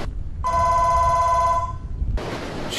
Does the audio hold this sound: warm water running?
no